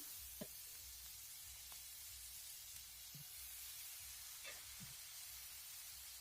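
Chow mein goes into a pan with onions that have been browned with a little turmeric, and a broad, faint hiss of frying runs steadily with a few soft stirring knocks.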